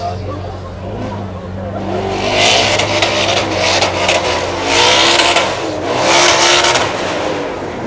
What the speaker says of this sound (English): it's time to unleash over 800 horsepower on our demonstration straight